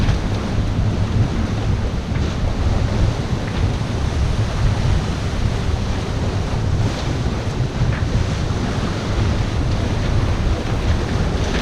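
Large sea waves roll and break around a sailboat heading from Belize to Mexico in the Western Caribbean, with strong wind buffeting the microphone. The result is a loud, continuous roar and rush of water without pause.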